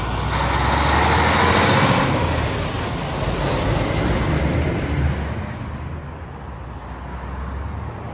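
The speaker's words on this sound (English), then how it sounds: "Okay, we'll let that truck go." A truck rolls past on Kennedy Road in Scarborough, a broad, loud engine and tyre roar close by that gradually fades as it moves away, with no talking.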